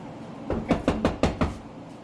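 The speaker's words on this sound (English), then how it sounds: "This quiet knock used to cause him to bark like crazy." Five quiet knocks rap on a front door in a quick, even series, close by in an otherwise still room.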